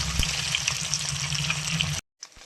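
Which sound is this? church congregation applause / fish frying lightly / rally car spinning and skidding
fish frying lightly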